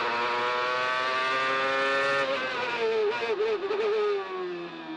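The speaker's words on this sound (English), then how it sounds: "That's the sound of the Toyota turbocharged V8." Toyota turbocharged V8 IndyCar engine racing at the 2002 Denver street race, a sustained high-pitched engine whine passing nearby with a falling pitch and a brief warble as it slows for a corner.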